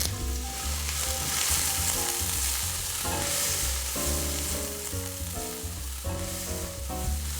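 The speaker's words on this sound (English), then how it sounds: "We're also going to saute that up with your leeks and your onions." Baby fennel sautéing with leeks and onions in a soup pot, a steady close sizzle and crackle with occasional stirring, under quiet background music and with no talk.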